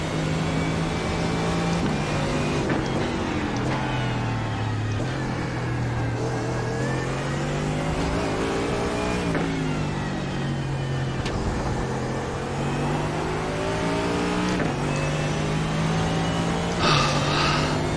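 Mercedes AMG GT3 race car engine in iRacing, revving loud and close through repeated upshifts and downshifts, the pitch climbing and dropping steadily across the whole stretch with no talk.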